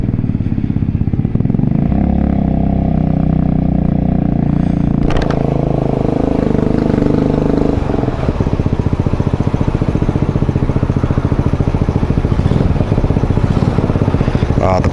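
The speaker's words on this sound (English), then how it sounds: "Oh, the bike's quiet now." A motorcycle runs through a small town centre, its engine rumbling loud and steady, rising sharply as it passes close by, then settling into a continuous growl.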